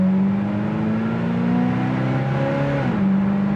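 A 1972 Oldsmobile Cutlass engine pulling hard under acceleration, a loud steady drone that rises in pitch and then drops sharply as the gear changes before climbing again.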